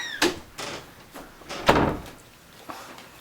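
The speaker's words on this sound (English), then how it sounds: "Can you shut the door?" An indoor door is pushed shut in a home, with a few sharp knocks and a louder thump of the door meeting its frame, followed by a fainter click, all close by with no talk.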